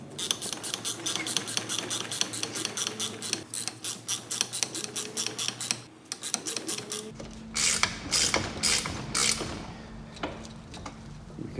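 A ratchet undoes the top nut of a front shock absorber strut on a Vauxhall Astra J. Quick rhythmic metallic clicks repeat steadily up close, then turn into slower, irregular clicks and rattles.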